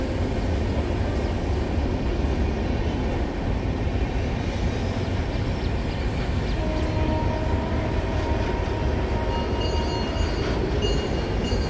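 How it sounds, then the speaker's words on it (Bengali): A train passes along a nearby railway line in a rural Bengali village, a loud continuous rumble and clatter of wagons rolling by up close, with faint metallic squeals toward the end and no talk. "এখান থেকে রেল রাস্তা কাছে, ট্রেন যাচ্ছে।"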